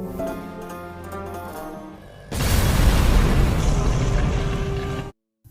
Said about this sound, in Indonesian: Dan tiba-tiba ledakan terjadi di istana presiden.